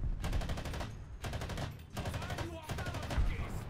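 Rapid automatic gunfire in a shooter video game, sustained loud bursts broken by brief pauses, with scattered sharper shots and some speech faintly underneath.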